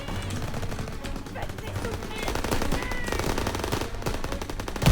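Gunfire in the World War II shooter game Call of Duty WWII, rapid machine-gun bursts and scattered shots in a dense, continuous battle din, with a player's voice talking over it.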